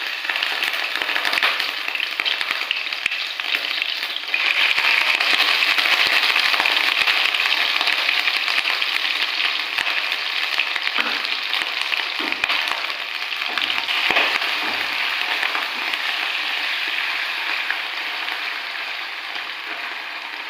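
Small chicken pieces hiss and crackle steadily in hot oil, a dense, loud frying sizzle that holds throughout with scattered pops.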